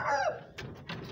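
A rooster kept at a poultry farm gives a short clucking call and then a couple of soft thuds and rustles as it is handled, close and fairly quiet.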